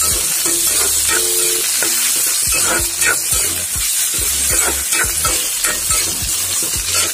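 Potato pieces sizzle and fry loudly in a pan with salt and turmeric, with a constant close-up hiss broken by repeated scraping and stirring strokes of a spatula.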